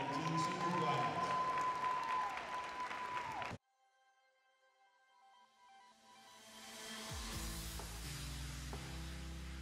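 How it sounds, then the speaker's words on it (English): Applause fills a high school gym at a volleyball senior night, a loud wash of clapping that stops abruptly, then swells back up and continues steadily. "one final round of applause for all of our"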